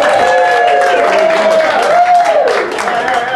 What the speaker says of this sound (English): give them a big round of applause when they do these punchlines